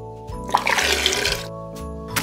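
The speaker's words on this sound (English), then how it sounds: "Add water to the tank." Water poured into a tank for a Lego wave machine, a gushing, splashing pour of about a second and a half with background music underneath.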